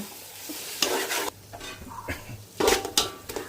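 Mint and coriander sauté in a pan for biryani, sizzling softly while a spatula scrapes and clatters against the metal in several bursts of stirring.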